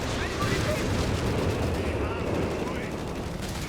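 Dense, continuous gunfire and distant explosions from a Company of Heroes 3 desert battle, with rapid bursts blending into a busy combat roar under a commentator's voice.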